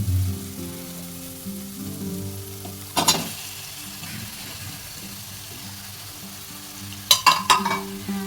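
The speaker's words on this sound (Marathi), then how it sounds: "आता आपण याच्यामध्ये टाकणार आहोत आपला मेन आयटम चिकन." Chicken pieces go into a pan of tomato, onion and garlic masala frying for Konkani chicken. A low, quiet sizzle runs under a steady hum, with two short clattering bursts as the meat is added and stirred.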